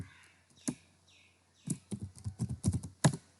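Several quick clusters of keystrokes on a computer keyboard as a plugin name is typed into a search box, close and fairly soft, with a pause before a denser burst of taps.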